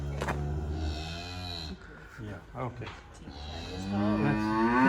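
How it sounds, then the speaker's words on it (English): Red heifers lowing at a farm in Shiloh, Samaria, with loud, drawn-out moos near the start and again at the end, and brief speech in between. "They're cattle."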